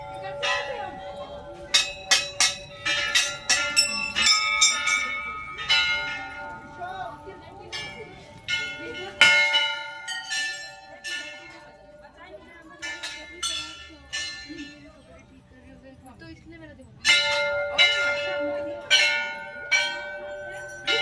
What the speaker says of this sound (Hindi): कितनी घंटी